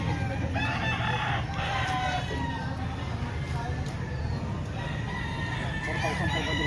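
Roosters, including pumpkin sweater and golden boy types, crow and cluck at a chicken market in Lipa, Batangas, loud and close in repeated calls, while people talk over a busy background.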